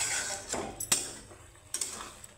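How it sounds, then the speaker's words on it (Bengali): Mung dal being stirred in a metal pot after the lid comes off, with a few sharp clinks of utensil on pot and a soft scraping, close and fairly quiet. "চাপাটা উঠিয়ে আমি আবার নাড়িয়ে চাড়িয়ে দেব।"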